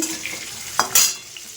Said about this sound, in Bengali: এখানে খাসির মাংস, আলু ভাজা হচ্ছে